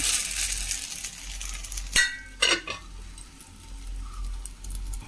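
Snack frying in hot oil in a pan while it is flipped over with a spoon: a faint steady sizzle, then a few sharp metallic clinks and scrapes from the turn, followed by the quiet sizzle again.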